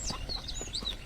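Chicken clucking in the farm shooter game Shotgun Farmers, a quick run of short chirpy clucks at moderate volume over a low steady game background, with no talk.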